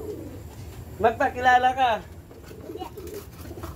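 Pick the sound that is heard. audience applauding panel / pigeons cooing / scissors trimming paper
pigeons cooing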